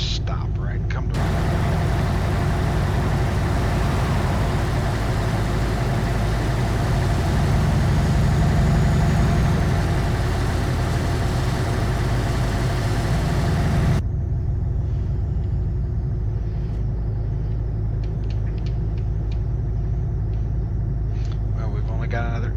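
A heavy truck engine idles with a steady low rumble in Euro Truck Simulator 2, loud and constant, then drops to a quieter, thinner drone partway through while a voice talks over it.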